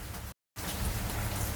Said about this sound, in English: It's raining outside, and I'm sitting in my car right now.